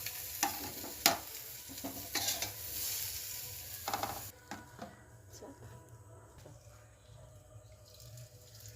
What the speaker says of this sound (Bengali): একসঙ্গে একটু ভালো করে নাড়িয়ে নেব